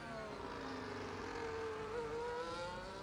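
Several race car engines whine and drone together through an overtake in a racing video game at Spielberg, Austria, with steady layered pitches sliding up and down, continuous and moderately loud with no talk.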